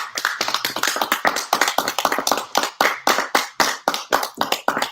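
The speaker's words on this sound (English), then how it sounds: "a big round of applause for James Michael Dorsey" A small audience gives close, lively applause for a book author at the end of a live author event. The crisp individual claps are distinct and loud, with no talking.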